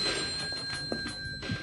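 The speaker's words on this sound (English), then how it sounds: "Oh, the phone." A telephone rings in a pizza delivery video game, its ringing tones repeating steadily across the short moment at moderate loudness, with no talk over it.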